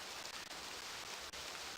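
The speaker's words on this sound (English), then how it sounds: "We're just kind of drenched in rain now" Rain falling in the realMyst video game, a faint, steady hiss of dense drops with a few soft ticks, heard alone throughout a brief stretch.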